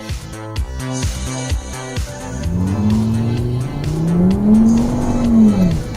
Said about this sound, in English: Let's see what happens with the traction control off from the launch.